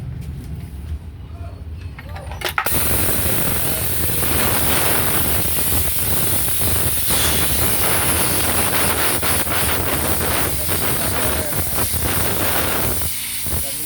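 A coin-operated tire air blower vending machine running, with a loud, steady rushing hiss of air that starts abruptly after a quiet moment and continues without a break.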